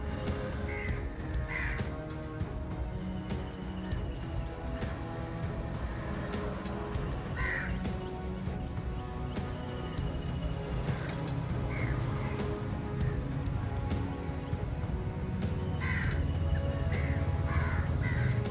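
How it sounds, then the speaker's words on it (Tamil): A flock of crows caws repeatedly while being fed by people in Tamil Nadu, with harsh calls scattered near and far over a busy, rumbling outdoor background. "இருவருமாக இணைந்து காகங்களுக்கு உணவு வழங்கும் அழகிய காட்சி"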